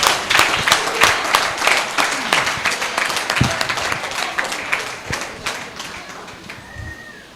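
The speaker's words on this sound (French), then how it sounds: "Acclamez très très fort le Tout-Puissant" A church congregation bursts into loud, dense applause, many hands clapping at once in a rapid rhythm that stays strong before gradually thinning and fading near the end.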